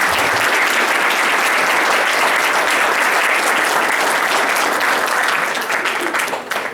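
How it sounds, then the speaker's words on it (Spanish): Loud, sustained applause from a large crowd, steady clapping that fades slightly toward the end. "démosle un fuerte aplauso a nuestro Señor Jesucristo"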